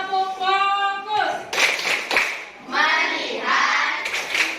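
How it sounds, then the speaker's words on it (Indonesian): A standing class of students performs a rhythmic focus clapping routine in a school classroom; chanted voices open the routine, followed by bursts of group clapping that come and go. "Kita mulai pelajaran, kita tepuk fokus dulu."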